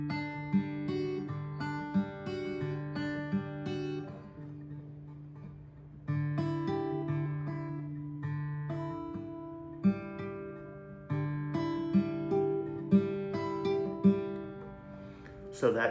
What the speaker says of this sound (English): So that gives you an idea of how it sounds with the square roll, the 4 count.